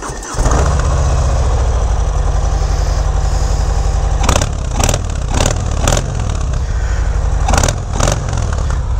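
A decatted Harley-Davidson motorcycle exhaust starts and idles with a loud, throaty, loping rumble up close, followed by several sharp throttle blips near the end.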